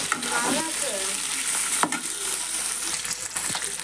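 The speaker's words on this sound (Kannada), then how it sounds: "ಇದನ್ನು ಹುರಿ ಹಚ್ಚಿಕೊತೀನಿ" Tomato-onion paste fries in oil for an egg curry gravy, a steady close sizzle with stirring scrapes and a sharp clack near the middle, no voices.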